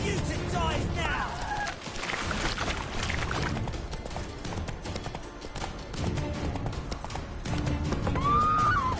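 In The Witcher video game, a horse's hooves clatter in a continuous galloping clip-clop amid dense game sound and music, with a voice speaking over it.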